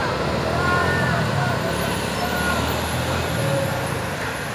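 A loaded Hino trailer truck works up a steep hill road, its engine a steady loud diesel rumble mixed with road noise, with no clear words spoken over it.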